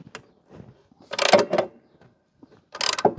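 Ratchet clicking as bolts are undone on a Victa 170cc four-stroke lawnmower engine, bolts threading into a cast alloy housing: a few short bursts of rapid mechanical clicks, close and fairly loud, separated by quiet pauses.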